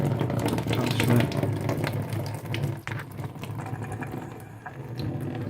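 Excess water draining out of a Worcester Greenstar boiler's diverter valve into a bucket, a steady close splashing, trickling flow with some clatter that eases slightly toward the end.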